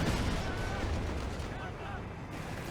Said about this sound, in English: I think that's the serious barrage.